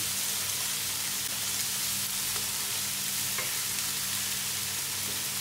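Fried tuna sizzles and crackles steadily in a hot pan, a dense, continuous frying hiss that stays close and even throughout with no voices.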